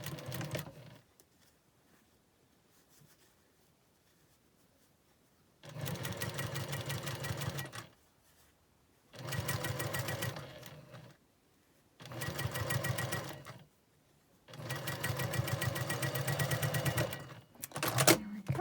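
A sewing machine stitches a quilt block seam in five bursts of rapid, even whirring, close and loud, separated by quiet pauses.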